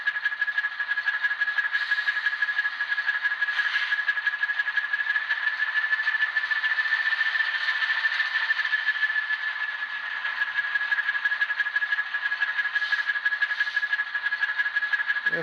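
An Atlas HO scale Alco S2 model diesel locomotive with ESU LokSound decoder plays its dynamic brake sound, a steady, sustained high whine over a faint hiss, continuous and unchanging for the whole stretch.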